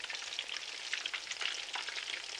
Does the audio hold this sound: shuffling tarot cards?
no